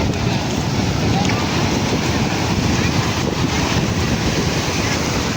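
Ocean surf at Juhu Chowpatty beach, Mumbai, roars continuously, loud and close, mixed with heavy wind buffeting the microphone.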